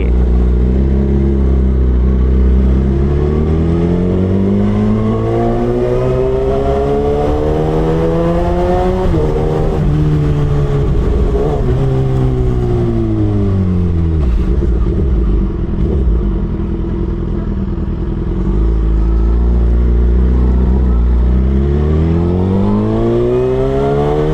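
A Suzuki GSX-R1000 L3 sportbike being ridden in evening traffic, its engine loud and close, rising and falling through repeated revs and gear changes, with a steady rumbling drone and no talking.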